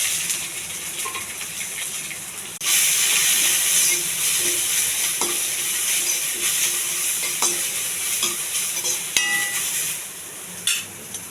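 Chopped onions sizzle in hot oil with mustard seeds, cumin, chana dal, curry leaves and green chilli, a sudden loud hiss that holds steady, broken by occasional stirring clinks.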